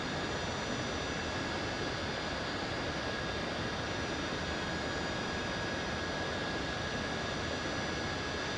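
An aircraft comes in to land in Microsoft Flight Simulator 2024, heard as a steady, loud broadband engine and wind roar with a thin high whine held throughout, with no breaks and no talking.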